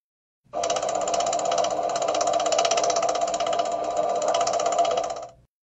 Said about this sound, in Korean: 기계실 팬에 간선물이 있을 시 팬이 운전하게 되면 더러러, 달달달, 다이음이 발생할 수 있습니다